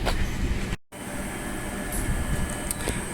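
An eight-car passenger train on Wellington's Kapiti Line rumbles steadily, with a low mechanical drone and hiss throughout, briefly cutting out near the start before resuming.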